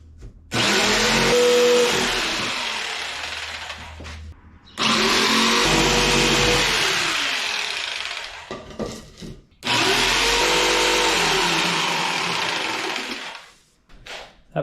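A power tool cutting a wooden face piece for a camper van fridge storage box, three loud sustained whining passes separated by short pauses.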